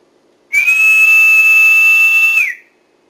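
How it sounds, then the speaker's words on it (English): A loud steam engine whistle blows one long, steady, piercing note for about two seconds, then cuts off into silence. "Blow like you've never blown your whistle before."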